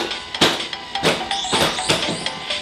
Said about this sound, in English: That noise you're hearing is the doggy door.